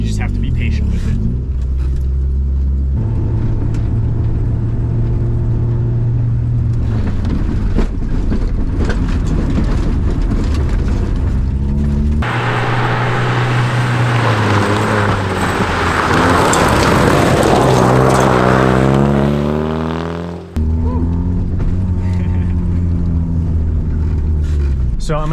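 A car's engine rumbles loudly through a pendulum turn maneuver, swelling and easing as the vehicle rotates, with a driver talking over the noise.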